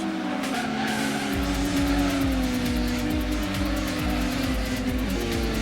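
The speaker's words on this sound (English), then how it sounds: "This NSX is sliding a lot" Race car in Gran Turismo on PS1, a Honda NSX, sliding through a corner with sustained tire squeal over a steady droning engine note, loud and continuous with game music-like tones behind.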